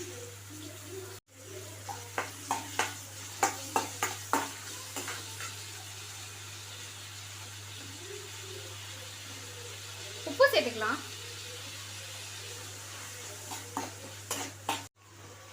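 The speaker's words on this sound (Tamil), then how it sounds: "வெங்காய தக்காளி நல்லா வதங்கிருச்சு" Onion and tomato sizzle quietly in a pan for white pumpkin sambar, with repeated scraping and stirring strokes, while someone speaks briefly over the cooking.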